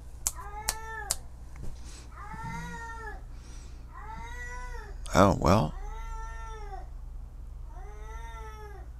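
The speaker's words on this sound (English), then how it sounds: "That's a cat going by, complaining or something." A cat meows and complains repeatedly nearby, with a string of drawn-out wails spread through the scene and a louder, sharper burst in the middle. A person speaks briefly near the start.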